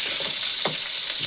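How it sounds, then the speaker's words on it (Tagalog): Chopped onion fries in a hot pan with a steady, close hiss and sizzle and a brief sputter partway through. "Prito muna natin siya."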